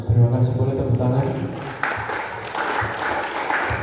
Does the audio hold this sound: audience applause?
yes